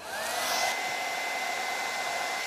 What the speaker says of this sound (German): Also der Föhntrick funktioniert.